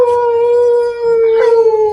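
A hunting dog howls in desert country, a loud, close, sustained tonal howl that holds steady for two seconds with a slight waver near the end, alone without talk.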